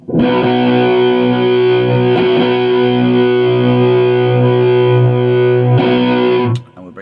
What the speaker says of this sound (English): Now you can get quite a tight kind of more modern sounding distortion by bringing the